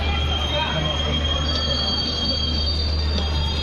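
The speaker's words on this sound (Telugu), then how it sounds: "మన ట్రైన్ వచ్చేసి విశాఖపట్నంలో ప్లాట్ఫామ్ నెంబర్ 1 పైకి అయితే వచ్చింది." A Howrah–Visakhapatnam Superfast Express pulling in at platform 1 of Visakhapatnam station, with steady rail rumble and high, sustained wheel squeal running throughout, loud and close.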